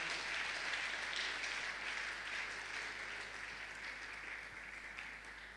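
A church congregation applauds at a Christian deliverance service, steady broadband clapping sustained throughout at moderate distance, slowly tapering toward the end with no voices.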